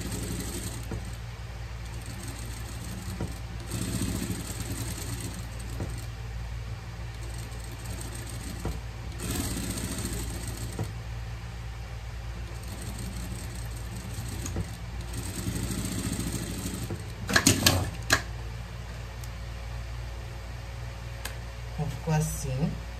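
A sewing machine stitches a pet harness, its motor giving a steady close mechanical hum with some louder bursts near the end, while a voice talks over it at times.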